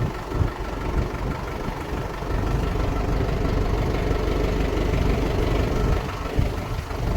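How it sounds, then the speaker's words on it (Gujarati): A tractor engine runs steadily nearby in a farm setting, a continuous low rumbling idle with slight knocking texture and no pauses for about seven seconds. "પપ્પા ટ્રેક્ટર રાખે છે."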